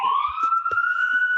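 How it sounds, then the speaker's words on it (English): Emergency vehicle sirens passing outside, a steady rising wail carrying through, with a few faint knocks and thumps nearby. "Oh my god, the fucking sirens."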